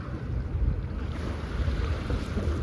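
A boat moves across open water with loud, steady wind buffeting the microphone and a continuous low rumble of engine and water noise throughout.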